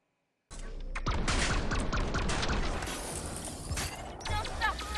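Rapid gunfire from a Vex build in a video game, with the trigger held down for a sustained burst: dense, continuous mechanical firing with booming shots that stays loud for several seconds.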